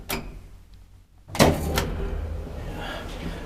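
An old Kone traction elevator in the Pohjola house in Kouvola gives a sharp click, then a louder mechanical thud and a steady running hum that settles and continues nearby.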